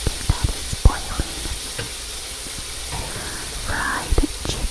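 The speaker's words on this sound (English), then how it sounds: "here is a gorgeous, beautiful close-up of the fried chicken that is boiling" Fried chicken sizzles quietly in hot oil, a soft steady hiss broken by occasional pops and light clicks of cooking utensils, close and gentle.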